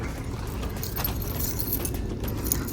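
Keys jangle at a hostel room door, a steady metallic rattle over low background rumble, with no talking.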